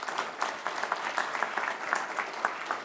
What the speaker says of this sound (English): Let's give her a round of applause one more time.